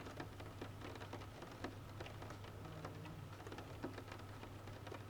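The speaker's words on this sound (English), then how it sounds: "rain sounds." Tranquil rain falls as a soft, steady patter with scattered drops, faint and continuous, with no voices.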